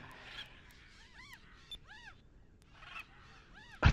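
Birds in the video game Skies of Arcadia honk in repeated paired calls, a rising-and-falling goose-like cry heard several times over quiet game ambience, ending in a brief sharp bump.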